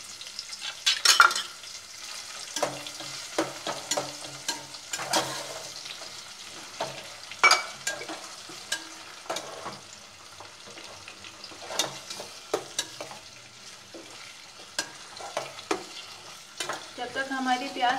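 Onion frying in a pan while a spoon stirs it, with a continuous soft sizzle broken by frequent scraping and clinking strokes at close range, and no talking throughout.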